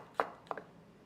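A knife chops food on a cutting board during a cooking scene in a video game, with two crisp, sharp chops about a third of a second apart in an otherwise quiet space.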